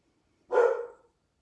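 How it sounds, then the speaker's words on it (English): A single sharp dog bark, close and clear, ringing out briefly against silence. "Y'all just ignore my dog. He's been at it all day, barking up a storm."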